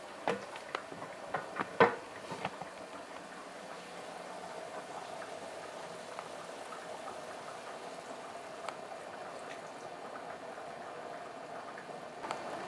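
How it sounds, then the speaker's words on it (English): Wine simmering in a covered pan, a quiet, steady bubbling and fizz with scattered soft pops and a few louder clicks near the start, with no voices. "So with the wine added, then we want to cover and simmer for about 10 minutes"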